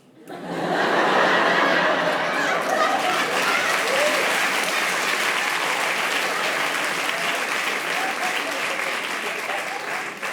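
A large audience applauds steadily for about ten seconds, dense continuous clapping with a little scattered laughter mixed in.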